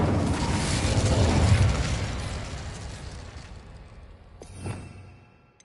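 A fiery spell cast in the Hogwarts Legacy video game bursts out as a loud, rumbling whoosh that swells and slowly fades, followed by a short sharp flare of fire near the end.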